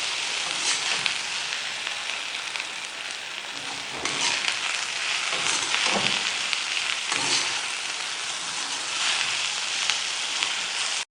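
Okra and masala being stir-fried on a high flame for a couple of minutes, giving a steady, close sizzle with soft scraping and stirring strokes that swell and ease in waves throughout, no voices.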